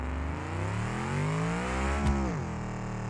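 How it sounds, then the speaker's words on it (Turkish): Simulated BMW E39 engine in BeamNG.drive revving steadily and pulling strongly under acceleration, a continuous loud drone that rises in pitch, with no talking. "Hemen çalıştıralım. Hızlı bir şekilde gidiş yapalım."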